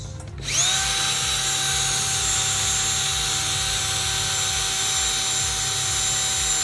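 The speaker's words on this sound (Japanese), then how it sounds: "少し磨いてみます。" Electric polishing tool spinning up and whirring steadily against a yellowed Nissan Skyline R33 headlight lens being restored, a loud continuous close drone with a pulsing low rumble, no voices.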